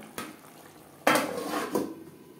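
Metal lid set down on a pan of bhetki fish curry: a light clack, then a louder clattering knock and a final softer clink, close and with no voices.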